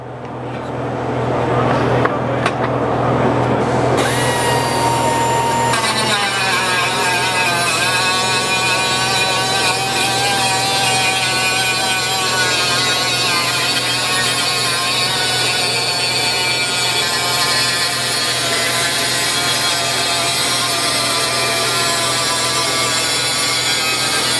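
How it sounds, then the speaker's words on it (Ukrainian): An abrasive cutting disc of about 9.5 mm diameter on an angle-grinder-type mount cuts through steel at a Kyiv auto service trade show, a loud continuous whining grind running nearly the whole time over a steady low hum, with faint voices beneath. "Ріже сталь, дуже швидко, дуже великий е, ресурс у цього круга."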